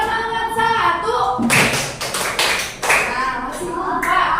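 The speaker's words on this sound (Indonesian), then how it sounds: "masih ingat gak ibu punya tepuk-tepukan yang semangat satu?" A classroom of students performing the 'semangat satu' rhythmic clapping cheer, a burst of loud, sharp group claps in a quick patterned sequence, with a teacher's voice speaking before and around the clapping.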